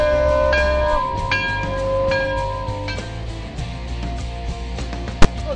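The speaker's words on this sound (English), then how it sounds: "Somebody ring the bell." A bell rings several times at a car dealership with clear, sustained tones that slowly fade, fairly close, over a busy background hum, ending in a sharp click.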